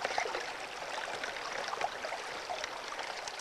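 Water current rushing across the riffles of a gold sluice set in a stream, a continuous faint hiss and burble of flowing water with no breaks.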